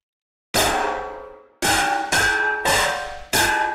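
Five sharp metallic bullet impacts ring out on metal in an FPS ballistics template, each a bright clang with a decaying ring, the first after a short silence and the rest in quick, uneven succession.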